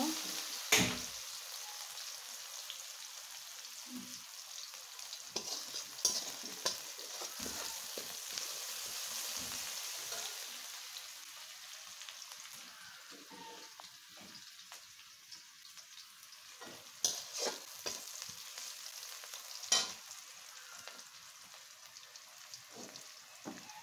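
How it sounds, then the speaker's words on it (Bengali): Onions sizzle and crackle steadily in hot oil left from frying chitol fish, with occasional sharper pops and scrapes of a utensil stirring the pan. "এখন আমি খুব সুন্দর করে এটা ফ্রাই করে নেব"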